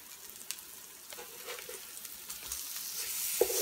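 Vegan turkey sautéing in a pan with black pepper and thyme gives off a steady, soft sizzle with a few faint clinks and scrapes, close by and without talk.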